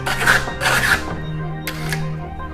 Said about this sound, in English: we start putting our skip trowel on